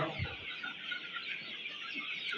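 Native desi hens and a rooster on a poultry farm, continuous soft clucking and murmuring from a flock, fairly close and even in level.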